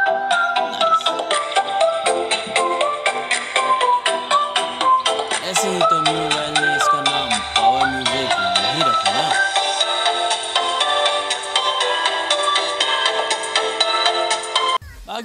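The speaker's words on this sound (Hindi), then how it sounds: "वाह क्या आवाज़ है इसके स्पीकर की।" Music playing loudly through the built-in speaker of a Me Mobile Power Music phone, a continuous melodic tune with tonal notes and some warbling, steady and close for the whole span.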